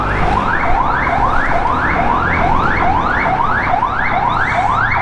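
An ambulance siren wails in repeated rising-falling sweeps, loud and steady over the rumble of surrounding traffic, with no talking.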